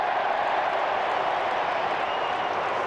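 Australian football crowd at a West Coast Eagles versus North Melbourne match, a steady broad roar of distant stadium noise with scattered cheering throughout, no clear peaks.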